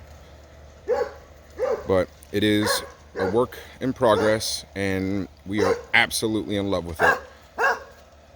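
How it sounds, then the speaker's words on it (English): A dog barks repeatedly nearby while a person talks steadily over it. "And that's the neighbor's dog saying hello."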